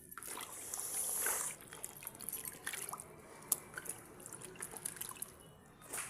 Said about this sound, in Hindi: अब इसको पानी में छोड़ देते हैं। पानी में आम भी डाल देंगे।